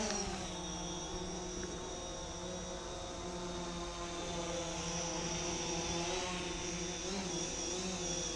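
Small drone flying around a neighborhood after rain, a steady high propeller whine with shifting pitch, fairly faint and continuous throughout.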